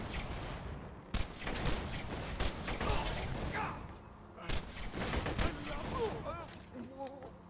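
Pistol firing in the Borderlands video game: sharp shots in quick, uneven bursts over a continuous game background, with some tonal game sounds near the end.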